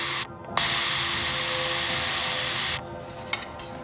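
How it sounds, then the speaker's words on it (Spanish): Polishing solder joints on thin copper refrigerator tubing with a small rotary tool, a loud continuous high whine and rub after a brief start, then stopping abruptly into quiet with a faint click. "Volvemos a pulir las soldaduras."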